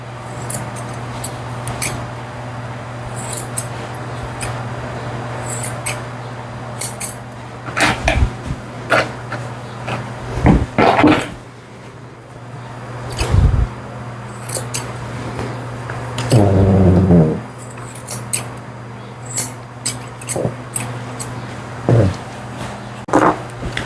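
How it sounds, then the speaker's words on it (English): Curved scissors snip through a Lhasa Apso's hair around the ear during a short haircut in a pet grooming session. Soft, scattered cuts stand out over steady background hum, with no talking. "I'm going to take my curved scissors and trim up around her ear."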